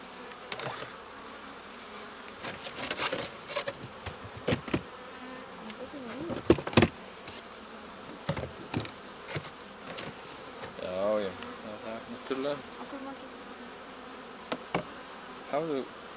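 Honey bees buzz around an open hive during late-season harvest and feeding, a steady droning swarm with individual bees zipping close past the microphone, punctuated by clicks and knocks of frames being handled.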